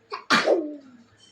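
A single sharp human sneeze at home, a brief inhaled catch followed by a loud close burst that trails off quickly, with no talk.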